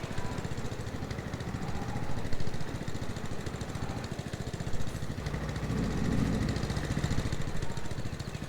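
Vehicle engine running in Farming Simulator 22 on a British farm map, a steady rattling mid-pitched idle with rapid regular pulsing, close and continuous, rising slightly in places, with no talk.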